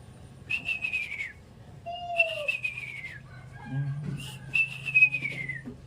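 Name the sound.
whistled bird call imitation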